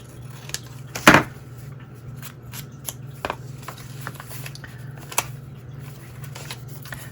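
Scissors snip paper for a junk journal in a few sparse, quiet cuts, with soft handling rustles and taps over a low steady hum.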